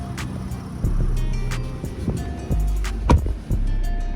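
A 2022 Nissan Frontier SV crew cab pickup moves off, a steady low engine and road rumble under faint interior clicks and knocks, with a couple of louder thumps near the end.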